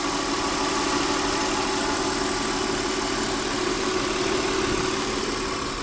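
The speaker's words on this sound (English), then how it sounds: "This engine is silky smooth" A 1998 Volvo S-series engine idles smoothly and steadily for the whole stretch, an even, close-up mechanical hum with a faint low throb and no voices.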